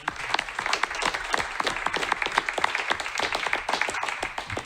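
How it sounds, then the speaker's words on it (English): A room at a Rutherford Board of Education meeting breaks into applause for Jack Hurley, a steady patter of many hands clapping together for several seconds with sharp individual claps standing out. "And now we can give him one more big round of applause"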